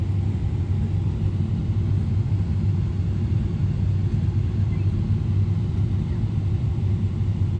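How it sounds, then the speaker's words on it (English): Steady low engine rumble heard from inside a coach bus on the road, a constant close drone with no breaks and no voices. "So we're taking a coach bus over to the Bournemouth area"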